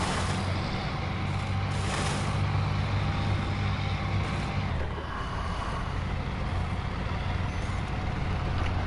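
A studded-tire mod truck in Snowrunner on PS4, with a super high torque engine and not in low gear, drones steadily and loudly, a continuous low engine rumble holding throughout with a few brief higher noise bursts.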